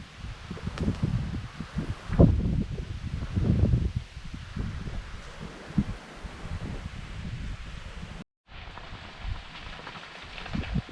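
Wind rushing through leaves on a shady plantation road in the Binabaje Hills of Bohol on a hot, windy afternoon, a steady broadband rustle with louder gusts, heard while riding an e-bike.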